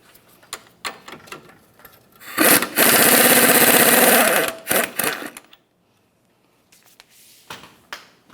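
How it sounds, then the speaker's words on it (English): A ratchet wrench and socket loosen a 21mm nut on an upper control arm bolt of a Dodge Ram 2500, heard as a loud, steady buzzing ratchet run of about two seconds, framed by scattered clicks and taps. "we will be removing with a socket. I'll use my wrench on the inboard side to hold that still"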